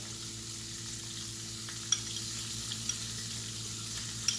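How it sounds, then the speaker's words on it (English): Grits seasoned with Old Bay are stirred in a pot, making a steady soft bubbling hiss with a few light taps of the spoon. "And then just going to go ahead and stir that all up."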